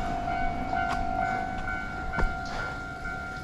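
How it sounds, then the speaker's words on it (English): A train rumbles past on a night street in retro Tokyo, a loud continuous roar with steady tonal squeal and a brief clank partway through, heard close with no talk. "Geez, that train's loud."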